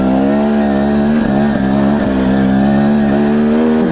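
A dirt bike engine on a ride through slick, rocky single track in Idaho climbs smoothly through its RPMs, a loud, close, continuous buzzing drone that rises and dips slightly with no voices.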